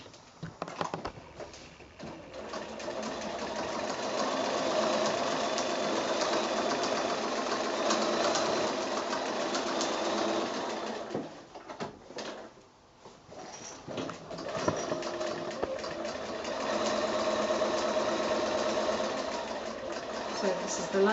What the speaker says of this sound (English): So this is the last of those rows of sewing on that back part of the gusset.